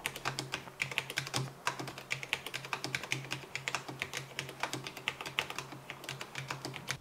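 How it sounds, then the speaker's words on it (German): Steady, rapid typing on a low-profile mechanical keyboard with speed switches. Dense, quiet clicking keystrokes run continuously and close, with no speech. "Low-Profile-Speed-Schalter hat man das Gefühl einer mechanischen Tastatur trotz flachem Baudesign"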